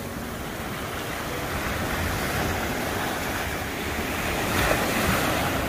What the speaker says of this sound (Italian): Stai attenta che ci sono belle onde.